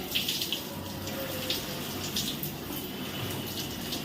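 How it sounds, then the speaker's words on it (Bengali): Shower water runs steadily in a home bathroom, a continuous hissing spray with faint splashes and no talking. "কতক্ষণে গায়ে এসে জলটা পড়বে সেই অপেক্ষা করছি"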